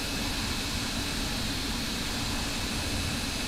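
Simulated MD-80 jet engines in X-Plane 11 hold a steady, loud, broadband roar with no variation or talk across the stretch.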